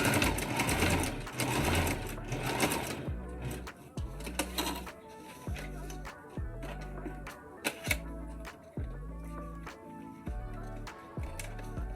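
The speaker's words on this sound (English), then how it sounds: "I went around the flap of the bag, sewed on the edges" Sewing machine stitching gold trim around the edges of a clutch bag: rapid motor whirring first, then a series of short, evenly spaced stitching bursts with brief pauses between them, close and alone.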